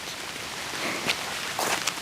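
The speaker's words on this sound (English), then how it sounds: "it's raining very much now" Heavy rain falls steadily during a walk, a soft even patter close by with a few faint footsteps or rustles mixed in.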